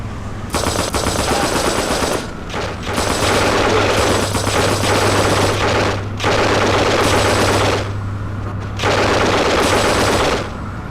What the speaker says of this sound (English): We got a shooting on Broadway and Lafayette, on foot with suspect Daisy Carb